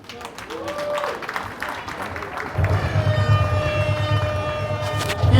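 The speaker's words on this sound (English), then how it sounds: "Keep clapping, guys." Audience at a 2019 national conference in Adelaide applauds steadily at moderate volume, mixed with sustained tonal sounds and some voices.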